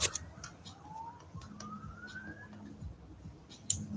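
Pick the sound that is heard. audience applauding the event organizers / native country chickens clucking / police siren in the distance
police siren in the distance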